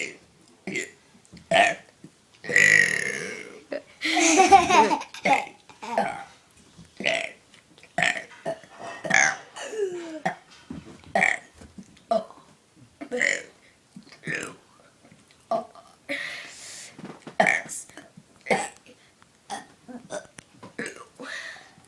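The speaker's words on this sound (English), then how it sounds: "telling me to burp for you guys, the ABCs" A 10-year-old girl burps her way through the alphabet, a long string of short, distinct belches in steady rhythm, close and clear, with brief breaths and pauses between them.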